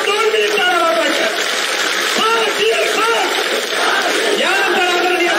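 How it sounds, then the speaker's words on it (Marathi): Large crowd at a Dussehra rally at Narayangad roaring and chanting loudly and continuously, with many overlapping voices shouting. "आपण जोरदार टाळ्यांनी दादांचं स्वागत करायचं आहे."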